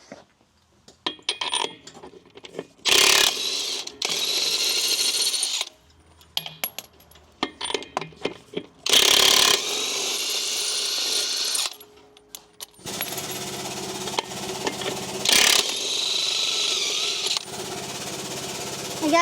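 Ratchet wrench work on the wheel bolts of a Marmon truck during a tire change, heard as bursts of clicking and metallic clanks separated by quiet gaps, with occasional louder hits nearby.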